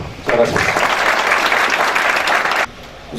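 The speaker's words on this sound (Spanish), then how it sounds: "Fuerte aplauso, por favor." An audience claps steadily at the opening of a sixth forum at La Salle, a dense burst of applause that starts abruptly, holds for about two seconds, then stops sharply, leaving a quiet room.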